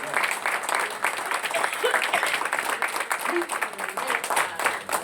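A church congregation applauding the Lord during a Spanish-language service, a dense wash of clapping that holds steady for several seconds, with a voice or cheering faintly mixed in.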